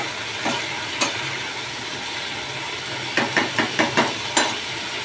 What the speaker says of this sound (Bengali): আলু ছেড়ে দিয়েছি, নাড়িয়েও নিয়েছি